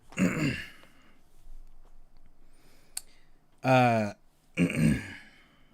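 Several separate bursts of throat clearing and coughing, close and fairly loud, with quiet pauses between them and a small click in the middle.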